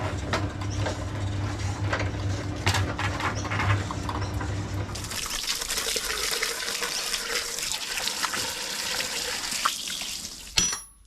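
A garden hose runs fresh water outdoors to flush an outboard motor that has been pulled up, a steady close gush and splash that changes to a brighter, hissing spray partway through before a brief clatter at the end.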